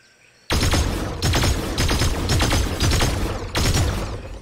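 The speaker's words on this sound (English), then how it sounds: "What is this gun? I just realized. Evochrome burst rifle?" Evochrome burst rifle firing in Fortnite Chapter 3, loud repeated bursts of rapid gunfire in quick succession with brief gaps between volleys, up close.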